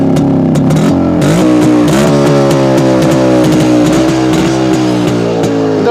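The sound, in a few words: Yezdi Roadking motorcycle engine running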